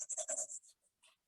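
Pencil shading on paper during a doodle-and-design session, heard as a quick run of close, rhythmic scratchy strokes that fade into a few lighter scrapes.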